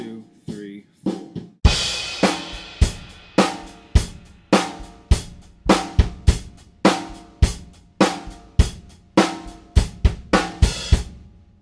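Drum kit playing a steady 4/4 quarter-note groove, loud, evenly spaced hits with crisp cymbal wash, after a few brief softer strokes at the start; no talking.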